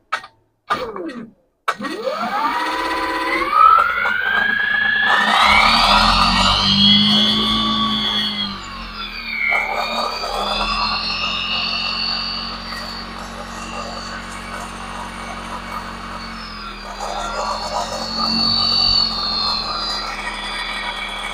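A free-electricity generator machine is switched on after a couple of sharp knocks, its whine rising quickly in pitch, then settling into a loud, steady running hum and buzz that wavers slightly, with no talking.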